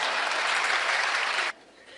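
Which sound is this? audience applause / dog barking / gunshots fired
audience applause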